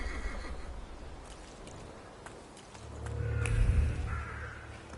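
In the video game The Thaumaturge, a horse neighs and snorts close by, with a rising whinny near the end over quiet ambience.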